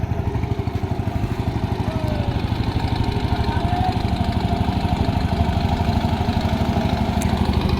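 A fishing trawler's engine on the Padma river, used by hilsa fishermen, chugs loudly and close in a fast, steady rhythmic thumping that continues without a break.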